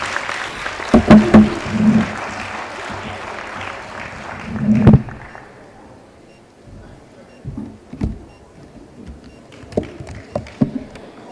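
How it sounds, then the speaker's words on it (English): An audience applauds at a child labour forum, a broad wash of clapping with a few voices over it that fades out by the middle, leaving quiet room sounds and scattered short noises. "You keep the round of applause going."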